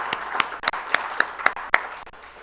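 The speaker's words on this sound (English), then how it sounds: "so let's give a round of applause for our Associate Director, Barbara West, who's retiring." Sparse clapping from a small lecture audience honoring a retiring associate director, a handful of distinct, separated claps close by, irregular and brief.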